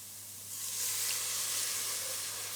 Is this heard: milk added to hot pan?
yes